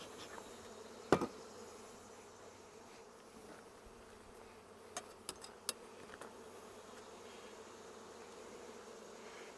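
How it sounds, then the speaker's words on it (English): A soft, constant hum of honeybees buzzing close by in the bottom box of a hive being split, with a few sharp clicks and knocks breaking through the drone. "we've got all the bees in the bottom"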